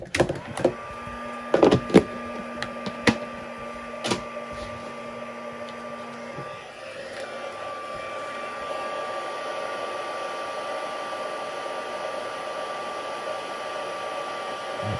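A heat tool sets ultra-fine embossing powder on a handmade card. After a few clicks and short tones, a steady blowing hiss starts near the middle and keeps going, close and even, to the end.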